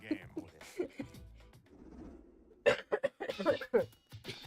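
A person coughs a few times in short raspy bursts, mixed with bits of talk and throat noise, fairly close but not loud.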